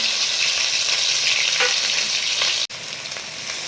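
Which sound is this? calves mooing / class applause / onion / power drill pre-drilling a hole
onion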